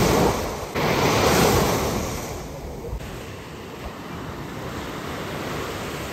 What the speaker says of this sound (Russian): Чайки над головой, море шумит.